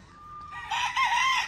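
A rooster crows once, loud and close, in a rising and falling call with no other sounds around it.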